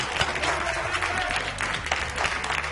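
Studio audience applause on a Greek Ready Steady Cook cooking show, a steady, dense burst of many hands clapping that fills the whole stretch at close range, with no talk over it.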